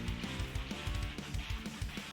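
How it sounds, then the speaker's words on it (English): Chugging rhythm guitar over quick drums in a fast anime-style opening intro, steady palm-muted strokes in a tight, even pulse. "And I added some rhythm guitar."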